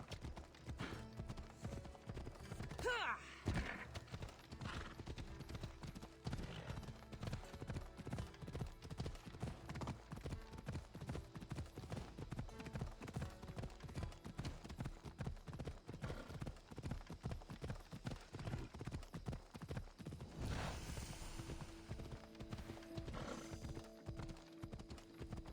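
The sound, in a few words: horse galloping, clip-clop hooves, in video game Assassin's Creed Odyssey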